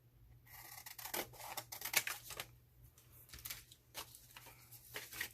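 Scissors snipping through paper for a craft insert, a quick series of close, crisp cuts with short pauses between them, faint and with no talking.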